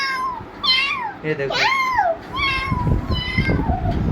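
A child mimics a cat, giving several drawn-out meows with rising and falling pitch, mixed with nearby talking and some background rustle.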